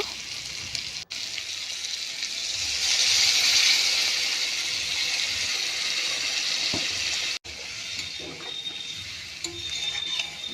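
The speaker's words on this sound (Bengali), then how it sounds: "এখন আমি জল দিয়ে দিব" Water goes into a hot pan of fried spices for a hilsa and potato curry, giving a loud, steady sizzle and hiss that swells and then settles, with brief clatter near the end.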